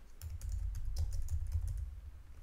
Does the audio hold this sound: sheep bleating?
no